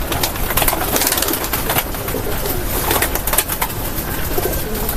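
Pigeons coo amid constant busy flock noise while eating wheat grain, with rustling and wing flutters filling the scene steadily, close by.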